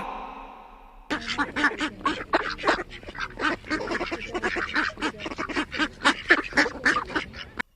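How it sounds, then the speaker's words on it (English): Rapid, busy duck quacking from several birds, loud and continuous over a few seconds after a quieter start. "D for duck. D for duck."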